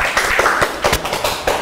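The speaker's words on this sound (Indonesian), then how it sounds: "Tepuk tangan dulu dong." A few people clap at Synchronize Fest 2018, with sparse, uneven claps and taps close to the microphone that come in short bursts.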